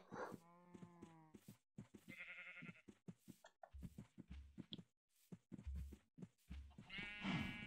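Cow mooing in the video game Minecraft, several low moos and animal calls in the game's farm scene, with other brief game sounds between them and no talk over them.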